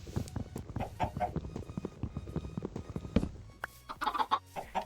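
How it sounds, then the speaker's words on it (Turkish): A chicken in the video game Minecraft gives a quick run of short, clipped clucks, close and fairly quiet, with a few sharper game sounds mixed in near the end. "Gel bakalım küçük minik tavuk."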